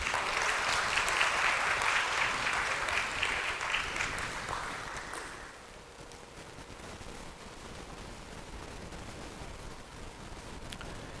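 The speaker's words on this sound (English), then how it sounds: "A huge round of applause, please." Applause from an audience at a bond listing ceremony, dense clapping that starts loud and fades after about five seconds into a quieter room tone with scattered claps.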